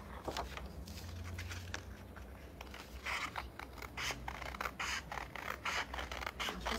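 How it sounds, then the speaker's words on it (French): Scissors snip through fabric in a run of quick, crisp cuts, close and fairly loud, the strokes coming faster in the second half with no talk. "J'ai pas les ciseaux les plus grands du monde"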